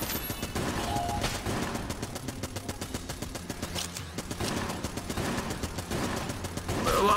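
Rapid, continuous gunfire from the video game Exit the Gungeon, with dense bursts of shots in fast succession that carry on unbroken throughout and stay loud and close.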